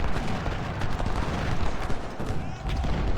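Artillery cannon fire in the Ultimate General: Civil War game, Battle of Shiloh, a dense rumbling barrage of overlapping booms and gunfire rolling on without pause.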